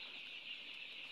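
A hen with her chicks makes a faint, continuous high peeping chorus. The sound stays soft and steady, with no voices.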